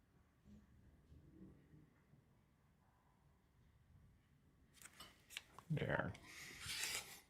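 Quilt fabric pieces from a scrap stash are trimmed down. After a quiet stretch, a cluster of close, crisp cutting and rubbing strokes comes in bursts toward the end.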